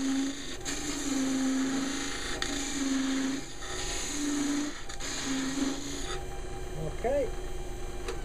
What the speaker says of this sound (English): I've got a parting tool now, so I'm just gonna put a mark at the end there.